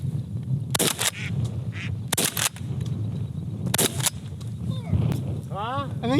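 Ducks quack in the open during a North Dakota goose hunt, a scatter of nasal calls breaking through steady wind rumble, with a quick run of rising calls near the end and people talking nearby.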